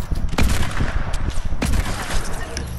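Video game gunfire rattles in a loud, dense fusillade of rapid shots with sharp bursts standing out, sustained throughout the short stretch with no talking.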